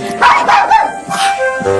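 A dog barks a few times up close, short loud yaps in quick succession.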